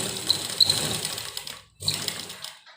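A domestic sewing machine stitches a one-year baby frock (jhabla) in a soft, continuous whirring run. It pauses briefly, then starts up again.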